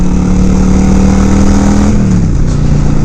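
A Yamaha V Star 1100 Custom motorcycle engine revs up loudly and close, a steady low drone rising in pitch before settling, with no talk over it.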